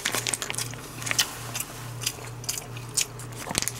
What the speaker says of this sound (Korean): 그냥 한번 이 상태로 그냥 먹어보죠